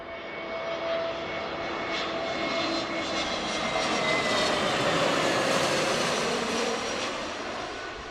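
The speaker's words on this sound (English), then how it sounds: "So this is our next aircraft. American A321 from DFW." An American Airlines Airbus A321 jet airliner roars past at a distance, its engine noise swelling toward the middle and fading again, steady and broadband with no talk.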